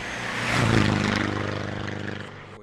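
A Ford Fiesta 1.6 TDCi turbo diesel with a big turbo and VXR Miltech custom exhaust, close and loud, its engine rising to a peak then holding a steady droning rumble with a rough, pulsing tone.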